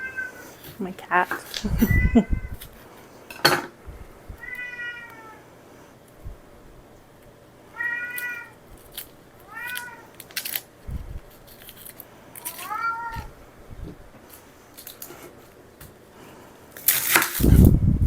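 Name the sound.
pet cat meowing in kitchen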